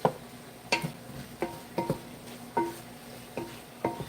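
White chicken chili stirred in a pot. About eight distinct clinks and scrapes of a utensil against the metal come at an uneven rhythm over a faint simmer, close and fairly quiet.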